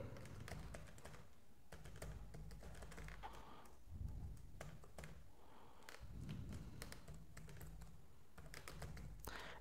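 Steady typing on a computer keyboard while an email is written in Gmail, a quick run of close key clicks and taps with brief pauses between bursts, no talking.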